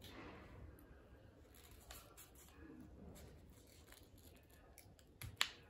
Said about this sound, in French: Et ensuite, vous allez donc couper.